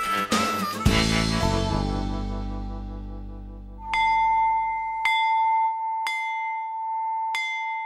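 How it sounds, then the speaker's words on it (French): An electronic school bell or chime signals recess, opening with a descending run of ringing tones that fade out, then four sharp, evenly spaced struck tones with a clear sustained ring, loud and close, with no one speaking. "Le son de la cloche dans le monde entier signifie récréation."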